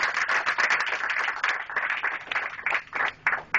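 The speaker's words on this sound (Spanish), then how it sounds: "Denle un aplauso fuerte al Señor" Guests at a church wedding ceremony break into lively applause, many hands clapping in a dense, rhythmic patter that swells and dips, close and fairly loud throughout.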